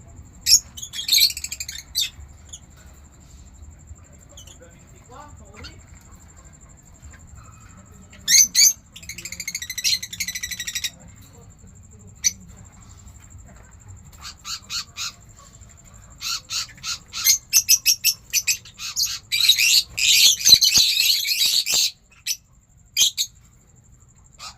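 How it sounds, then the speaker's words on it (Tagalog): Birds in a small backyard aviary on a farm chirp and tweet in scattered bursts, some close and shrill, with gaps of near quiet and a low background hum. "dito ko nilagay yung aking mga ibon."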